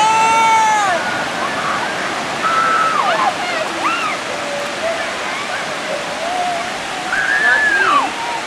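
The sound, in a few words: water waves rushing in on the shore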